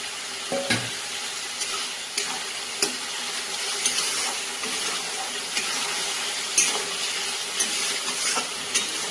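Fried pointed gourd pieces are stirred into sizzling spice paste in a pan, giving a soft continuous frying hiss with occasional scraping clicks from stirring.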